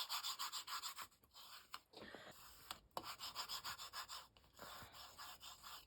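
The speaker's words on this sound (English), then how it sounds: "This is just my Cricut scraper that I use for vinyl and stuff." A Cricut scraper rubs vinyl onto a wooden album cover in quick, rhythmic back-and-forth scraping strokes, close and fairly quiet, with a short pause partway before the strokes resume.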